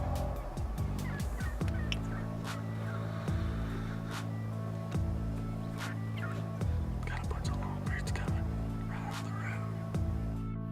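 A wild turkey gobbler on the South Dakota prairie gobbles loudly and close, with repeated rapid, rattling gobbles coming in quick bursts over a steady outdoor background.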